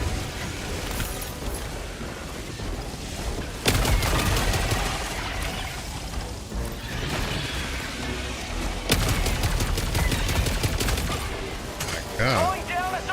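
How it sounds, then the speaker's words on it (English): An orbital laser strike in a video game, with loud booming blasts and crackling barrages that come in two big surges, and a voice talking over the steady battle noise. "Firing orbital laser."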